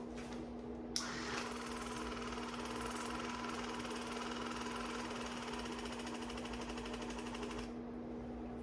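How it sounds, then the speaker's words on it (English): A Waterpik water flosser runs steadily at close range, its motor whirring with a buzzing, slightly uneven chug as it moves around the teeth, starting abruptly after a moment of quiet. "The Waterpik's going to chug when I get around my teeth."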